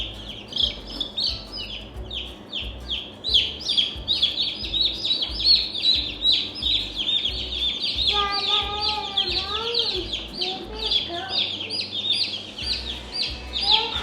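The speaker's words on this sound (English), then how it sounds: "So we got our 5 American Bresse chicks." Five day-old American Bresse chicks chirp in rapid, high, overlapping peeps close by, with a few longer rising calls, while people talk and handle them in the background.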